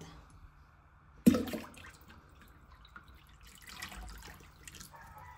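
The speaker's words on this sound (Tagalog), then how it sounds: "Ibubuhos lang natin to dito sa tubig mainit." Liquid is poured from a bucket into hot water for starching a gown: a sudden splash, then a softer, uneven trickle and sloshing that fades and returns quietly.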